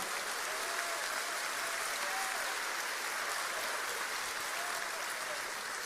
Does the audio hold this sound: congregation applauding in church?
yes